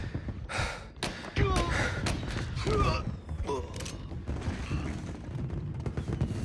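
Gunfire in the Mafia video game: repeated sharp shots and bursts crack through a busy, loud scene, mixed with game effects and excited talk throughout.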